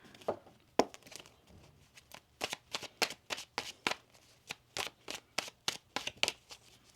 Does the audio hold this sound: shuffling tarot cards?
yes